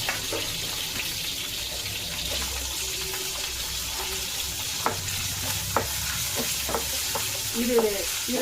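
Onions fry in hot oil for a veg keema gravy, a steady dense sizzle with stirring clinks and spoon scrapes scattered through, close and continuous with no talking.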